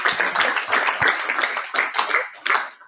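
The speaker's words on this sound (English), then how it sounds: "Let's give him a big round of applause." A crowd at a conference keynote on AI in science and engineering claps steadily for a few seconds, a dense burst of applause without any voices.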